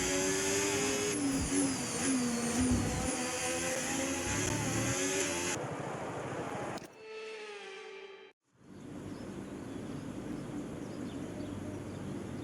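F1 video game race cars at the China GP roll off on a wet, low-visibility formation lap: a dense, loud engine roar with whining revs, which cuts off abruptly, briefly returns as a thinner tone, then gives way to steady hiss.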